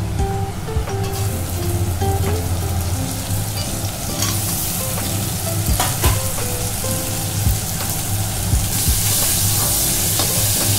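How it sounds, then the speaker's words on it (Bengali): Onions frying in a pan with cinnamon, cardamom and cloves for a chicken dish, a steady loud sizzle with occasional stirring clatter, no talk. "পেঁয়াজগুলো একটু ভালো করে ভাজবো, একটু ব্রাউন ব্রাউন হবে সেরকম"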